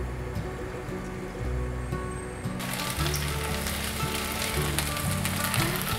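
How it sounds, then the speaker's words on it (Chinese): Taro strips fry in a little oil in a pan, giving a continuous, dense sizzle that grows louder partway through, with faint tonal music underneath and no speech. "锅内放入少许油，把芋头签放进来煎。"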